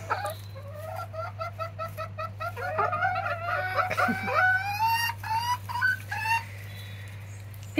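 Several small bantam chickens cluck and chatter close by in quick overlapping bursts, over a steady low hum.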